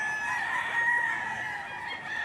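Rooster crowing amid a crowd of poultry at a busy chicken market in Batangas, a sustained strained call over a steady background of clucking birds, loud and close, with no clear voices.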